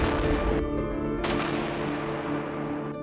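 A US Navy electromagnetic railgun fires a projectile during a test while secured to a large system of metal decks, giving loud sharp blasts at about 0.6 and 1.3 seconds over a continuous heavy rumble.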